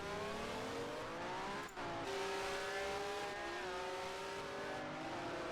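A Ferrari race car in a sim racing game drones loudly and steadily, its engine note rising and falling through gear changes with a brief dip partway through, and no voices.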